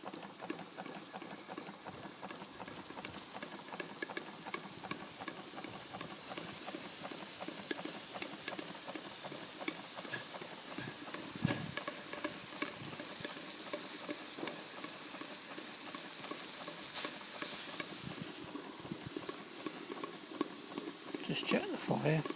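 Coal-fired Stuart No.9 model steam plant running, with a continuous hiss of steam and rapid, regular mechanical ticking and clicking, close and moderately loud over twenty-odd seconds, with a few louder puffs and someone talking over it at times.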